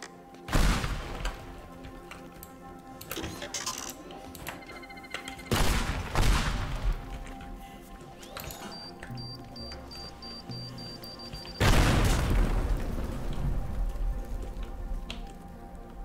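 Repeated heavy explosions from a rocket launcher in the video game Teardown, three big booming blasts a few seconds apart, each followed by crackling debris and rumble, with a steady background hum and a faint electronic tone.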